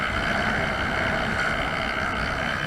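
Honda Zoomer scooter engine held at about three-quarter throttle, a steady, moderately loud drone with a constant buzzing pitch and no breaks.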